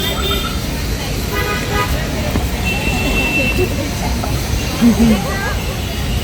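Vehicles move through a car parking area near the ancient Hanuman temple in Delhi, with continuous traffic rumble, short horn toots and crowd babble, while someone talks over the scene.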